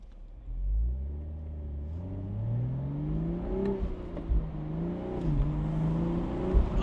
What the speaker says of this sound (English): Oh, that rev match downshifting is so good.